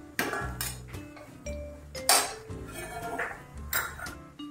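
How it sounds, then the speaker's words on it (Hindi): Chickpea curry scraped and spooned from one pot into another, with repeated metallic clanks and clinks of a utensil against cookware, close and fairly loud. "अब इसको हम दूसरे बर्तन में निकाल लेते हैं।"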